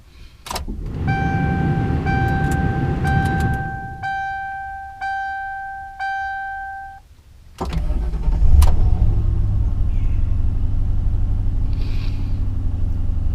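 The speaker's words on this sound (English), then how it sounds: "it's just nice to hear that little bit of a growl coming out of a V8 engine" A series of electronic warning chimes sounds, then a V8 car engine cranks, catches with a bark and settles into a deep, rumbling idle.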